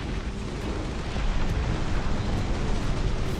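Incendiary strikes explode in the Dustfront RTS video game as a continuous, dense roar of overlapping blasts and crackling rumble, steady and loud for the whole stretch with no speech.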